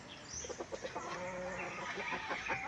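A chicken clucks in a short series of quick, rhythmic calls close by, over a steady outdoor background.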